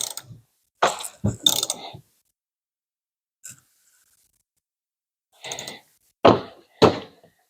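Hand tool work on a seat bracket bolt while fitting a Corbeau Forza seat into a BMW 335, with short bursts of close mechanical clicking and clunks separated by quiet gaps, and no voices.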